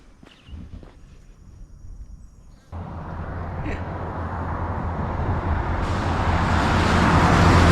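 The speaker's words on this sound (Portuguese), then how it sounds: "os carros passam super rápido aqui" Cars rush past on a fast road near the triple border area, first faint footsteps and light sounds, then a loud, swelling roar of traffic that builds steadily toward the end, heard up close.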